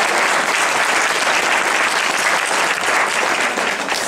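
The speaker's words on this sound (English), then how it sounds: "give her a big round of applause" A cosmetology audience applauds a hair model at a photoshoot training, the clapping thick, loud and continuous throughout with no letup.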